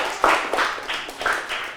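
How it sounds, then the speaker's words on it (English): Scattered hand clapping for the winning team at a Ramadan quiz show, a few separate claps in uneven bursts, fairly faint, from a small group rather than a full crowd. "Have a clap for them."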